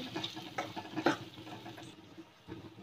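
Soft scraping and light sizzling from spices being stirred in a pan over a medium gas flame, steady and close, with a few small clinks.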